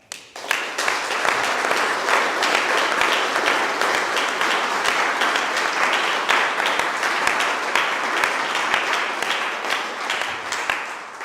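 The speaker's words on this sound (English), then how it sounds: "and we applaud that." Audience applause at a Victory Day commemoration of the anti-fascist struggle, a full, continuous wash of clapping from a large crowd that rises quickly and holds steady for over ten seconds.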